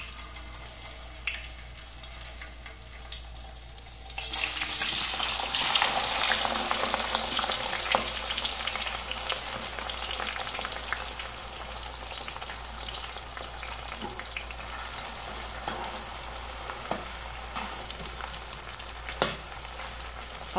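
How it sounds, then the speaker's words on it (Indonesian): Thin-sliced fish and squid meatballs frying in hot oil, a loud, steady sizzle that surges when the pieces go in and keeps crackling and popping for the rest of the clip, with no voices. "Sekarang kita mau goreng."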